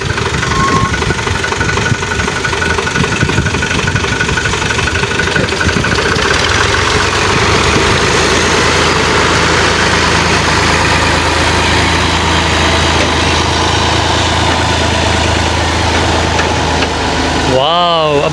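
Tractor engine running steadily while pulling a trolley during a maize harvest, a continuous low rumble heard close throughout, with people talking over it.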